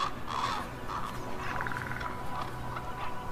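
Ravens in the Arctic north of the Polar Circle in winter give a few hoarse, moderately distant caws over a faint steady background.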